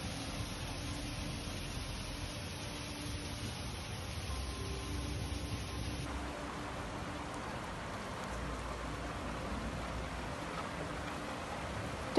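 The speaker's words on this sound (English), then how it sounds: "Heavy rains in the Turkish capital on Saturday led to the flooding." Heavy rainstorm in Ankara, Turkey: steady, dense roar of rain pouring down without a break, loud and continuous, with no voices.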